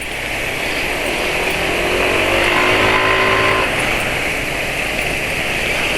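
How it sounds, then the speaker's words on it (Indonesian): A car engine revs hard on a drive, its rising and falling harmonic sweeps loud and steady over continuous road and wind noise, with no talking. "Ini sekarang penulis lagi geber-geberan ya, nggak nyangka jaraknya pakai sudah 30 km."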